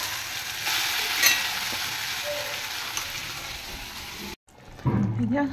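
Poppy seed paste bubbling and sizzling in a pan, a steady frying hiss throughout that cuts out briefly near the end and returns louder with stirring.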